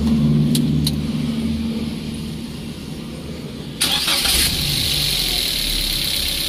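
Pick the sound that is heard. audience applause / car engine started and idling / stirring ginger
car engine started and idling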